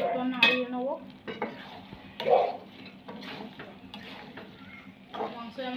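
Chicken and potatoes frying in a pan while being stirred, close scraping strokes and a clink of the utensil over a low sizzle, with a voice talking briefly.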